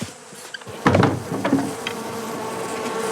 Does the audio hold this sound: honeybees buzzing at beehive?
yes